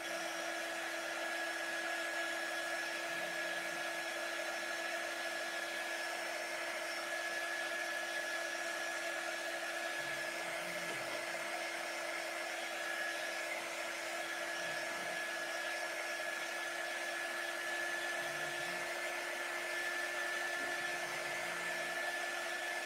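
A hair dryer blowing steadily to dry paint, a loud continuous whirring hum with a stable whine, unbroken for over twenty seconds and close by.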